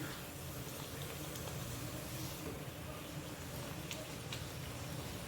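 A Malvani vada sizzling as it fries in hot oil, a faint, steady crackle and bubbling that continues without a break.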